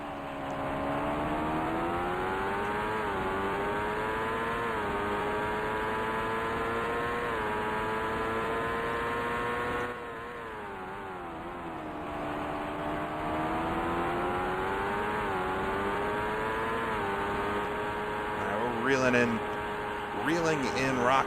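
Simulated Indy race car engine from a 1990 CART race at Road America, holding a loud, steady high-revving drone that rises and dips with gear changes and a brief lift around the middle, close and continuous throughout.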